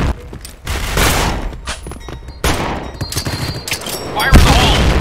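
Rapid gunfire from the shooter game Point Blank cracks in dense automatic bursts and scattered single shots, loud and close, with brief pauses between volleys and players' voices calling out during a tournament match.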